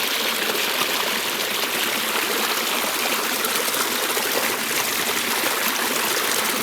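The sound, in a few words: washing mud off shoes in a flowing stream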